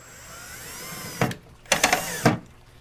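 A power drill drives screws into a scrap-wood cart in three short whirring bursts, the last two closely spaced, loud and near, following a quiet stretch of faint hum.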